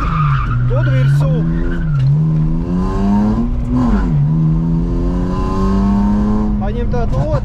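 A BMW E46 revs hard while skidding on grass, its engine note rising and falling in long wavering sweeps, loud and close throughout, with tire squeal mixed in.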